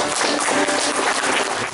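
Church congregation clapping in praise during a service, a brief, dense burst of steady handclaps filling the room.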